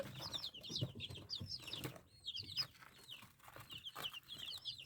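Small, sickly chicks cheep in quick high chirps, repeated in clusters, with soft clucking and rustling from nearby birds underneath.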